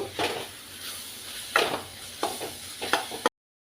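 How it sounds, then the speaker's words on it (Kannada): Coriander powder, cumin, turmeric and garam masala are stirred in a hot pan for dal tadka, giving a soft sizzle broken by several scraping strokes of a spoon, close by and with no talking. "ಸ್ವಲ್ಪ ಜೀರ ಸ್ವಲ್ಪ ಅರಶಿನ ಸ್ವಲ್ಪ ಗರಂ ಮಸಾಲ ಹಾಕಿ ಚೆನ್ನಾಗಿ ಮಿಕ್ಸ್ ಮಾಡಬೇಕು"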